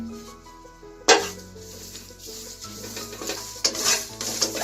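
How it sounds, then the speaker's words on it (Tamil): Curry leaves being dry-roasted in a pan for horse gram powder, light rustling stir strokes and a faint sizzle with occasional metallic scrapes, close and fairly quiet over a low background hum. "அடுத்து இப்போ நம்ம எடுத்து வச்சிருக்கக்கூடிய 3 கொத்து கருவேப்பிலையை போட்டு நல்லா வறுத்துக்கிறேன்"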